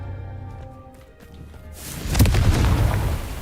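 A Confringo fire spell in Hogwarts Legacy bursts into a booming explosion after a quieter lead-in, then gives way to a dense rumbling crackle that holds loud to the end.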